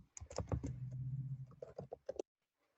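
Fingers type on a computer keyboard in a quick, close patter of clicks that runs for about two seconds, then stops.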